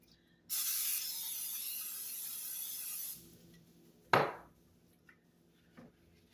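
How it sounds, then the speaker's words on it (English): A steady aerosol cooking spray hisses into a skillet for about three seconds, followed by a sharp clatter and a few faint knocks. "I am going to spray it because I don't want this cheese to stick."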